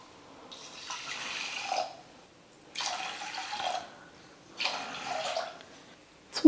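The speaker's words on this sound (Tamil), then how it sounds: "1 டம்ளர் அரிசி 1/2 டம்ளர் பருப்புக்கு 3 டம்ளர் தண்ணி சேர்த்துக்கலாம்" Water poured from a tumbler into a pressure cooker holding rice and lentils, three separate splashing pours with short pauses between them, close and clear, no talking.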